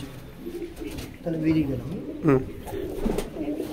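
Rampuri breeding pigeons in a loft coo in low, throaty, repeated phrases close by, while a person talks briefly amid the calls.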